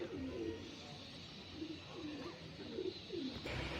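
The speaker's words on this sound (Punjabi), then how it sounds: "ਆਪਣਾ ਬੜਾ ਕਬੂਤਰ ਦਿਖ ਗਿਆ ਏ ਉਹ ਜਾਂਦਾ ਸਾਹਮਣੇ" A pigeon coos repeatedly at a household pigeon loft, giving soft, low, rhythmic calls. They sit over a steady, quiet outdoor background with no talking.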